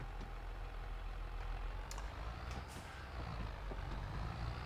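Truck in Farming Simulator 22 rumbles along with a low, steady engine drone, faint and even, with a few light clicks and hisses over the top and no talking.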